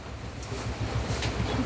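Steady rain falls outdoors on a cool wet day, a soft continuous wash of noise with some low rumbling, fairly close and constant, with no talk.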